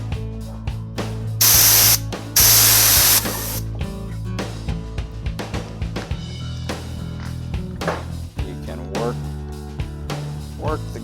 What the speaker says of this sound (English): if you get this compressed air nozzle right up under the edge there and pinch off the backside.